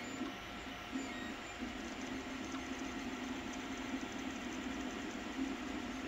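A large 3D printer runs loudly, its steady mechanical hum and whine holding at one level with faint rhythmic ticks from the moving parts, close by and with no voices.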